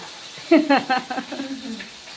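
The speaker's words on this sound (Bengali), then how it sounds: "মাছ ভাজা হচ্ছে কড়াইয়ে" Fish frying in a wok gives off a moderate, steady sizzle while a voice speaks over it for most of the short stretch.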